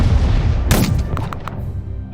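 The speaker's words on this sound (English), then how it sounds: "Oh, those are big guns." Heavy artillery guns fire in the Unity of Command II war strategy game: a single loud, deep boom lands, followed by a few quicker, sharper cracks that fade into a low rumble.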